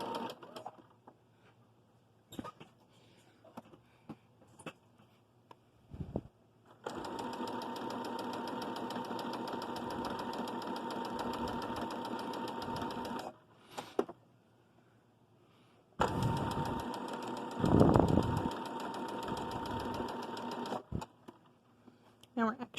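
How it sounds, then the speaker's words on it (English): A sewing machine runs in two long steady bursts, stitching bias tape together down a fabric strap for a tie mask, with short pauses and small handling clicks between runs. "go down my strap sewing my bias tape together"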